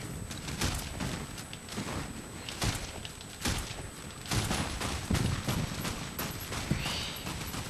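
Gunfire in Fallout: New Vegas: a steady run of sharp shots and bursts, some close and loud, others more distant, going on throughout over a constant game background.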